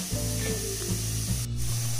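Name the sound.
squid cooking and bubbling in its own water in a pan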